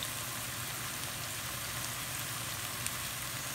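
Onions and garlic frying in a pan for smothered cabbage give a steady, even sizzle, a dense crackling hiss that holds close and constant with no voices.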